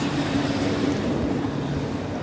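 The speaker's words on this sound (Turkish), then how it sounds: "Ya kamyonmuş." A low, steady rumble of a passing truck, broadband and constant throughout, with no voices.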